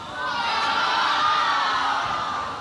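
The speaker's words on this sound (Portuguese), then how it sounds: "quando você ouve essa plateia berrando?" Studio audience on a Brazilian TV show screaming and cheering, a dense, loud wall of high shrill voices swelling in and holding steady without a break.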